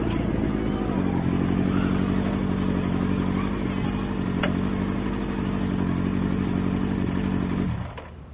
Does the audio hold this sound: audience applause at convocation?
no